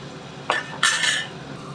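A spoon scrapes and clinks against a pan twice as salt and turmeric are stirred into a capsicum curry, two short bright metallic bursts close by with no talking.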